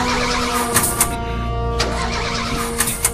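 Car engine running and starting off to move the car, a loud steady mid-pitched drone with a few sharp clicks and knocks on top, no talk.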